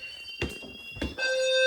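Two fire alarm systems in a garage and house sound together, one giving steady high electronic tones and the other two thumping low pulses, after which a tone shifts and grows louder.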